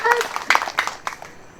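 A woman claps her hands, a few distinct, close claps in an irregular rhythm that fade out, with voices around them.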